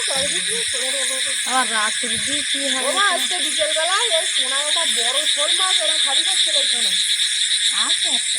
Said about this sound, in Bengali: ব্যাঙের ডাক দেখো